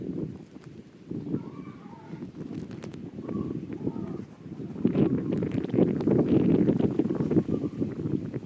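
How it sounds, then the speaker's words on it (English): Wind blowing steadily outdoors beside a cotton field, a low continuous rumble buffeting the microphone and swelling louder in the second half, with faint voices in the background. "we can hear only wind, sir."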